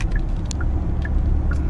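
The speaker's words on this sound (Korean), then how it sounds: "엔진 소리가 상당히 듣기 좋게 들리죠." Genesis GV80 Coupe driving at high speed, heard from inside as a steady, dense roar of engine and road noise that holds level throughout, with faint higher tones drifting in and out.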